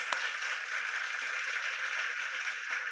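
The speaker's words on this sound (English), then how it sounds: "let's give a big round of applause" Zoom meeting participants applaud in a steady, dense patter of many hands clapping together, moderately faint and continuous.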